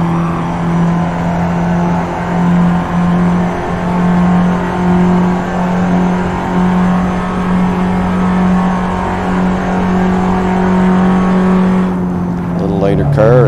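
A Ferrari LaFerrari's engine drones loud and steady as it races around Spa in a driving video game, holding a high pitch before a quick shift in tone near the end.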